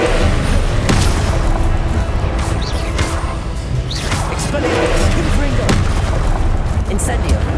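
Incendio fire spell cast during Hogwarts Legacy combat, a string of sharp magical bursts and booming impacts amid a dense, loud wash of battle effects and spell whooshes.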